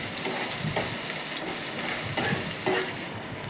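Chopped onion and green chili frying in a pan for Tamil chicken kulambu: a steady, moderately quiet sizzle with a few scraping stirs breaking through, no voices.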